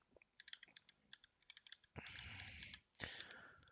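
Quiet clicks of someone typing on a mechanical keyboard, a quick uneven run of key taps followed by two longer bursts of rustling noise, faint and with no voices.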